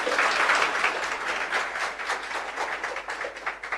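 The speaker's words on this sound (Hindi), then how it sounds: "पहले तो एक बार जोरदार ताली हो जाए रैंक 24 के लिए" Steady applause from an audience at a CMA Inter rank award event, many hands clapping together in a dense, continuous wash that holds for several seconds.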